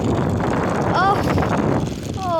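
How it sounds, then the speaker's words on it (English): Strong wind buffets the microphone in a steady broadband roar, with brief whistling tones over it. "Oh, that is windy."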